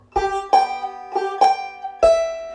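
A banjo plays a Scruggs-style backup lick in G, five clear plucked attacks in an uneven eighth-quarter rhythm, bright and close with ringing notes, no voices.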